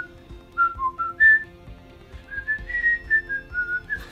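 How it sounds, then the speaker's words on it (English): The whistled intro melody of a song plays from a vinyl record, a string of clear notes in two phrases separated by a short gap, over faint low background. "It begins with this awesome whistling part."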